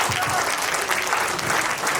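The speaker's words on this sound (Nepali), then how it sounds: "त्यसो भन्नेहरूलाई ताली दिनुहोस् न एकचोटि।" Church congregation clapping together at a pastor's prompting during a sermon, a dense, steady round of applause close by, with a faint voice underneath.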